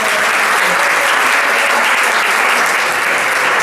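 Audience applause at a book club discussion, a dense, steady wash of many hands clapping loudly throughout with no talk over it.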